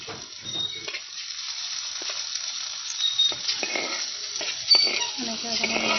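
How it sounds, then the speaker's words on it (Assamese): Chopped onion with green chillies fries in oil, a soft close sizzle broken by stirring scrapes and light clinks of a spoon against the pan, with no talk over it. "পিঁয়াজটো হোৱালৈকে অকণমান ভাজি ল'ব"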